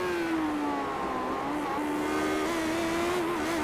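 Engine of a Lotus 79 race car in an iRacing race at Imola, a sustained high, buzzing drone holding near-constant revs with slight pitch dips, loud and steady without talk.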